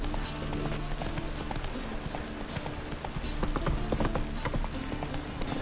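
Geralt's horse Roach in The Witcher 3 galloping, a quick continuous clatter of hooves with a steady rhythm, close and fairly loud over a humming game background.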